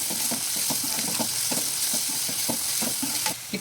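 A spoon stirs fried onions with turmeric and salt in a pan, scraping in a steady rhythm over continuous loud sizzling, close and without talk.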